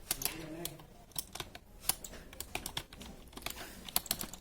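Rapid typing on a computer keyboard during a demonstration of a typing skill test, irregular sharp key clicks continuing throughout at close range with no one speaking.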